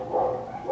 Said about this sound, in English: My dogs are barking, so mind that.